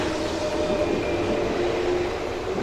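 A continuous rumbling train ride in the video game Yo-kai Watch 2, with a steady mechanical drone and faint tonal whine, heard from on board at constant loudness.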